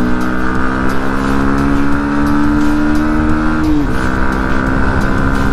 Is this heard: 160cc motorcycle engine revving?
yes